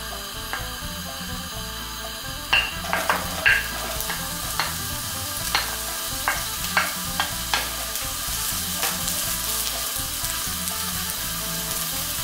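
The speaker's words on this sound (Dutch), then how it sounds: "ga ik de ui even fruiten" Chopped onion sizzles in olive oil in a pan for a Thai yellow curry, a steady crackling fry broken by sharp stirring clicks and scrapes, close and moderately loud, with no voices.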